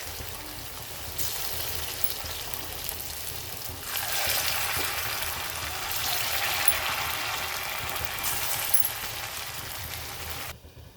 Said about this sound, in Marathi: आणि कमी गॅसमध्येच आपल्याला हे भाजून घ्यायचं